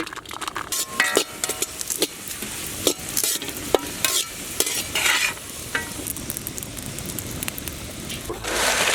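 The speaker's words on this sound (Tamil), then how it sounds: "நெய்யில வறுத்த முந்திரி திராட்சை," Cashews and raisins roasting in ghee, stirred with a utensil in a pan: steady soft sizzle with frequent scraping strokes and clinks, close and moderate in level, with some voices faintly in the background.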